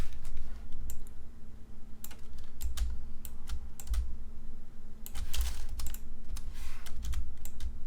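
Computer keyboard keys being pressed during design work, a steady run of light clicks and taps, some in quick bursts, over a constant low electrical hum, with no talking.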